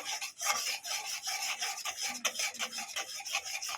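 A spoon stirs a thickening bedana mishti mixture in a pan after cornflour has been added. It makes steady, close scraping and rubbing strokes in a continuous rhythm, with no talking.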